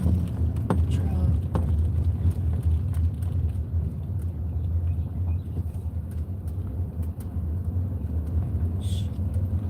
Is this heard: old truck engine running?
yes